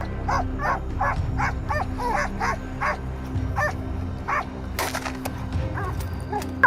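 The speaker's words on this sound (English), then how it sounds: "The dogs barking made the wild boar panic" Hunting dogs chasing wild boar bark and yip in a quick, uneven series, some whimpering in between, over a constant low mechanical hum.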